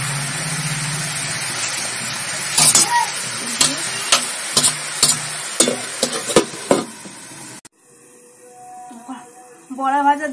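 Prawn fritters fry in oil with a steady sizzle while a series of sharp spatula clacks against the pan ring out, then the frying stops and a person talks.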